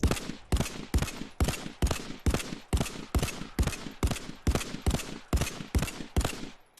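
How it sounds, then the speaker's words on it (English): Single shots from a VR haptic gunstock set to full auto, about a dozen sharp evenly spaced reports in a steady rhythm, close and loud with no talk. "We're in full auto, but I'm just giving single shots."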